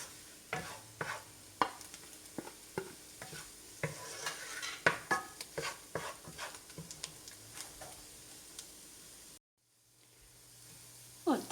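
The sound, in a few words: stirring egg and tomato dish with green chilies in pan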